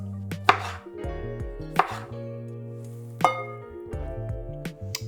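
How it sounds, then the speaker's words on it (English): A knife slices a tomato in a handful of separate strokes against a cutting board, spaced about a second apart, with steady background music underneath. "For the tomato, you can just do slices like these."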